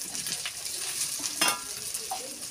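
Potatoes and onions with spices fry in a pan as they are stirred, a soft, low sizzle with a few scraping strokes, faint and close, no one speaking.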